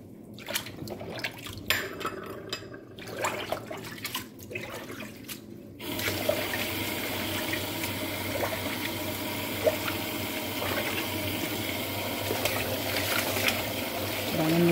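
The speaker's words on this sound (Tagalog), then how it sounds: "Kailangan mo siyang banlawan ng mabuti dahil may ano pa." Molokhia leaves rinsed under a running kitchen tap: a few soft clatters first, then a steady, fairly loud gush of water that continues to the end, with faint dripping and splashing over it.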